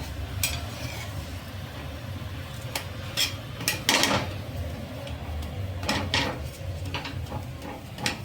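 A metal spatula presses masala bhakhri flatbread down on a hot pan, making irregular scraping clinks and taps over a low steady hiss of roasting.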